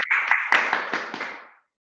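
A few people clap over a laggy online Toastmasters meeting call, a short burst of close, compressed handclaps that thins out and cuts off abruptly after about a second and a half.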